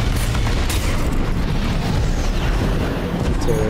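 A missile launcher shotgun fires in Armored Core VI, giving loud booming blasts that sit within a dense, constant roar of mech combat, with no one speaking.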